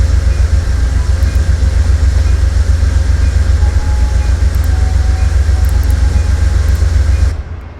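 A six-coach Pacific Surfliner passenger train in a Southern California train simulator game rumbles with a loud, steady low drone and faint high whines, then cuts off abruptly near the end.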